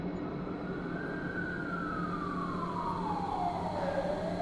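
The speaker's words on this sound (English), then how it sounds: "Sirens could be heard from the distance." Emergency vehicle siren wailing far off, a single faint tone sweeping slowly up and down over a steady low background rumble, heard alone with no talk.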